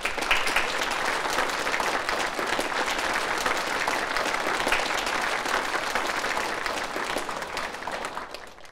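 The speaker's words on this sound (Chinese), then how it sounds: "我们用热烈的掌声请出尊敬的沈昌钰先生" Warm, sustained applause from a lecture audience welcoming a speaker, a dense steady roar of many hands that tapers slightly near the end.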